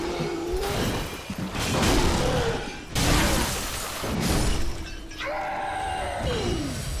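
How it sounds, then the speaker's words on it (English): Crisp glass-like shattering from the frostbite effect in Dark Souls III, bursting out several times over a loud, dense game soundscape with a rising, wavering tone near the end. "I keep hearing this sound of like glass shattering, and I think that might be actually my frostbite effect"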